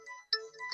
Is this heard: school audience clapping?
no